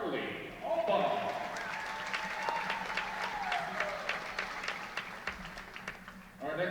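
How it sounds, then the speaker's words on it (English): A crowd in a gym applauds at a Carson-Newman versus Coker college volleyball match during a senior recognition, sustained clapping and cheering that swells, holds and fades, while an announcer speaks over it. "Ladies and gentlemen, one more round of applause for Carly Alba."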